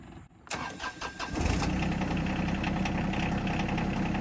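Yanmar SA325 tractor engine cranking briefly and catching, then settling into a loud, steady diesel idle with a rough, even rumble, close by and without talk.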